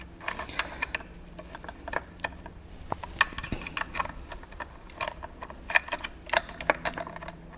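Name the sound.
removing a bolt from a Simply 16 quilting machine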